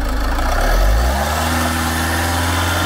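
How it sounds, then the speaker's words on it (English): A Jaguar car engine with an EGR fault revs up once, a loud close surge in the first second, then settles back to a steady low idle. "Just give it a rev up."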